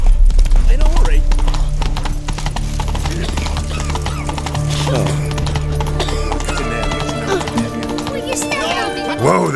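Roach, a horse in The Witcher 3, gallops with loud close hoofbeats over a low rumble, then gives a whinny; someone speaks briefly over the riding.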